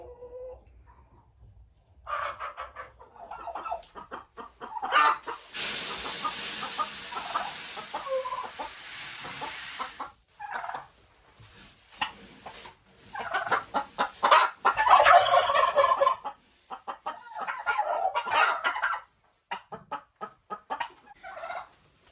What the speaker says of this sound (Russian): это, кстати, курочка, которая вот очень сильно плачет, когда она несет яйцо